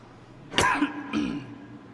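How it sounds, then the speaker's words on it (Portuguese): A man coughs sharply into a microphone during a church sermon, one loud close cough followed by a second, softer throat-clearing cough, both ringing slightly through the amplified room. "Posso nem tossir em paz."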